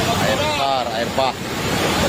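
Rushing floodwater of the Sungai Rumbai river cutting across the Sumatera Barat–Jambi road, a steady broadband roar close by with wind buffeting, and people talking faintly over it.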